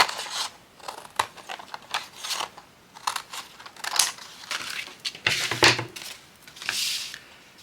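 Scissors snipping through washi tape at close range, a series of crisp irregular cuts and clicks with brief pauses between them, loud against a quiet background.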